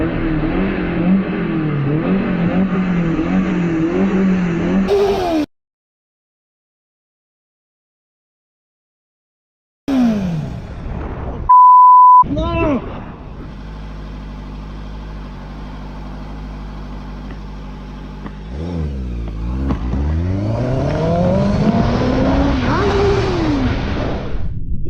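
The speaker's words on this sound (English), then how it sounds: "The biker's loud exhaust prevented this reckless driver from doing so" Loud vehicle engines rev and accelerate in road traffic, including a motorcycle's loud exhaust, with a silent gap, a short beep, then rising and falling engine roar.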